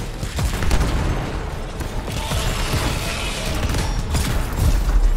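Enemy shotgun fire in the video game Anthem, with dense bursts of blasts and mechanical clatter over loud, busy combat noise for several seconds.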